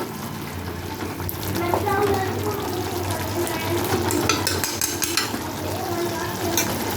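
Onions and ground tomato sauté in a pan, giving a steady, close sizzle with occasional stirring scrapes.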